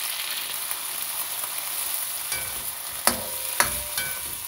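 Shrimp frying in a pan give a constant bright sizzle up close, broken by a few sharp clicks and scrapes of a utensil, with no talking.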